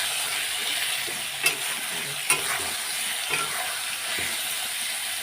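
Salt and turmeric frying in a pan for dal, with a steady close sizzle broken by a few sharp scraping clicks from stirring.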